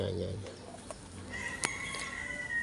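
Hens clucking softly at a distance, including a laying hen, with a sharper rooster call rising briefly midway over a quiet outdoor background.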